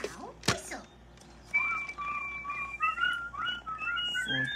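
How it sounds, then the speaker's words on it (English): Someone whistles the tune of Row, Row, Row Your Boat, a clear melodic line of short held notes following a brief voice, fairly quiet and close. "Now, whistle."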